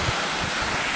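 A waterfall in a village pours down with a steady, dense rush of water at close range. The roar is continuous and broadband, with some wind buffeting the microphone and no voices over it.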